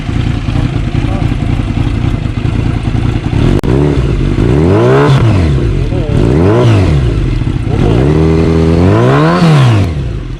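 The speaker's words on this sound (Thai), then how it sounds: "ขอฟังเสียงจังหวะเบิ้ลนิดๆหน่อยพี่" A Kawasaki Z900 SE with a Yoshimura R11 full exhaust idles, then revs sharply three times in rising and falling sweeps, loud and close.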